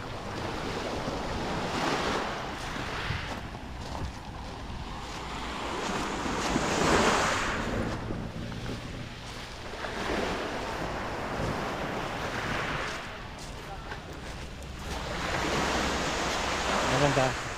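Strong ocean waves breaking at Brizamar beach in Batangas, a continuous roaring surf that swells and recedes in slow surges, mixed with gusty wind buffeting the microphone.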